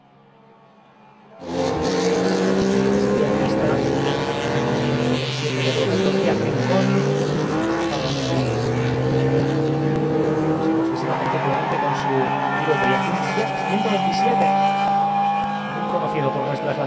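A classic MGB race car runs at the Jerez circuit during a historic endurance race, its engine snarling loudly and continuously with shifting pitch as it accelerates, alongside other cars on track.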